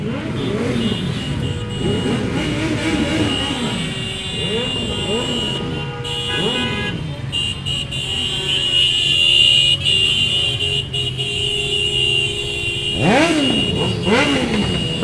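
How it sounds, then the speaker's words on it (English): A noisy group of motorbikes passes in a St Patrick's Day parade in Balbriggan, engines rising and falling one after another in repeated revving sweeps over steady crowd and street noise. "we have a very noisy collection of motorbikes coming this way"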